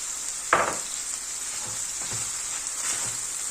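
Carrots and leek fry with onions in a pan for a leek börek filling, giving a steady bright sizzle with a few soft stirring scrapes and clinks, close and moderately loud.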